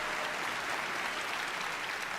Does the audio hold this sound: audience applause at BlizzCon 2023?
yes